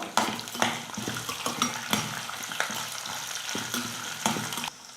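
Red chillies, garlic and ginger fry together in a pan, a close crackling sizzle punctuated by repeated spatula scrapes and clinks against the metal at an uneven rhythm, no one speaking.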